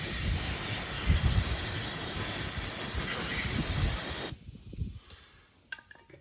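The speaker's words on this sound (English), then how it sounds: "now I'm gonna take the brake clean and just clean everything up" Loud, steady hiss of brake cleaner spraying over a Harbor Freight generator after its oil drain, holding for about four seconds before cutting off, followed by faint clatter and quiet handling.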